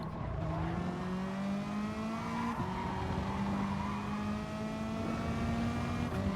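Porsche race car on a track with its engine droning steadily as it coasts off the banking, a continuous close engine tone with a brief dip in pitch before braking into a chicane.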